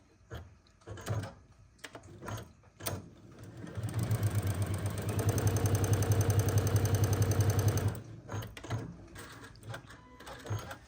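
A sewing machine stitching rectangles of quilt fabric for acorn blocks, starting with a few short bursts and then running in one steady, loud stretch of rapid stitching before slowing to scattered taps and handling noises.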